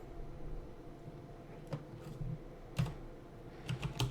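Someone types on a computer keyboard, quietly and sparsely, with a few soft keystrokes and small clusters of taps over a faint background hum.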